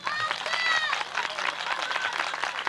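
Guests at a 2004 village celebration held by a Sivas village culture and solidarity association applaud, with steady, close, dense clapping and crowd noise under a voice for a few seconds.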